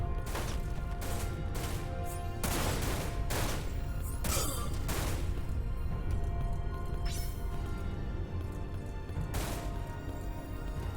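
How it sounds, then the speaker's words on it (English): Gunshots ring out in the Dirge of Cerberus action game, a series of sharp, loud cracks at irregular intervals over a dense, steady background of game noise. "I can hear another gunshot."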